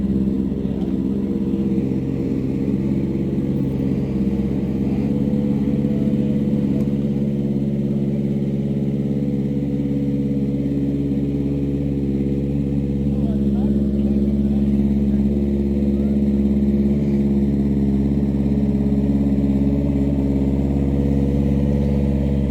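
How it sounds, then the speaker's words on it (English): A motorcycle engine idles steadily at high revs, a loud continuous drone with a strong low hum that holds throughout without letting up. "Your bike sounds like it revs quite high. Like it's like idling very high."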